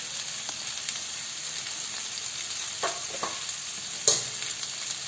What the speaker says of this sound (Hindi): कनि देर आलू के भी हमरा एहिमे फ्राई कऽ लै छी।